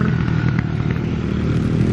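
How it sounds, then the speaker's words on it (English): A motorbike passes near a Neolithic barrow with a steady, loud engine drone that holds through the moment under outdoor wind noise. "Motorbike, motorbike."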